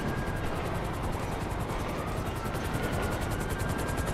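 Helicopter in the video game Grand Theft Auto V during an online heist, a loud, close, steady rotor chop that beats rapidly throughout over a broad rumbling drone.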